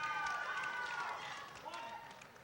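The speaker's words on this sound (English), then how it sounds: "You can hear a cheer from the crowd in the background as well." A crowd cheers in the background of a college men's basketball game between California and Mercyhurst on Mercyhurst's senior day, a broad steady roar that fades slightly over a couple of seconds, with faint tones and bustle on top.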